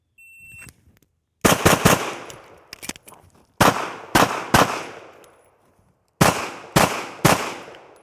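Rapid strings of rifle shots fired on a shooting drill, loud and close, in three bursts of roughly three rounds each with short pauses between, every shot sharp with a ringing decay.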